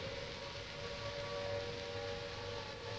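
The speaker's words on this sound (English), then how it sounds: "The noise that you hear at the moment is the sound of the air raid sirens." Wartime air raid sirens wail faintly and steadily across Trafalgar Square in London during World War II, a distant sustained tone over hissing background noise.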